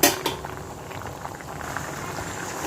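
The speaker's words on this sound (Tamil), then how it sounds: "இது கொதித்து வேகட்டும் பார்க்கலாம் இப்போ பாருங்கள் இப்போ இந்த அது நல்லா வெந்துக்கிட்டு இருக்குது ஜவ்வரிசி பாருங்கள் நல்லா வேகுது" Sago payasam for a sugarcane kheer bubbling in a pot, a soft continuous boil with small pops and a faint clink of utensils near the start and end.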